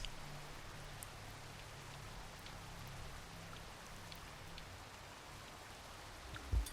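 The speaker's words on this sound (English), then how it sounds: "yes, I feel the rain" Steady, dense rainfall patters continuously in the video game Rain World, an even hiss of drops with no other sounds until a soft thump at the very end.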